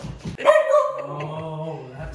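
A puppy plays with another dog at the base of a Christmas tree, giving a sharp bark followed by a drawn-out whining yip, close and fairly loud.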